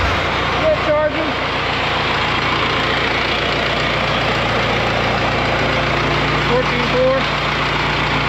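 A 4BT Cummins diesel engine idling in a Ford Bronco just started for the first time, a steady low rumble close by, with people talking over it.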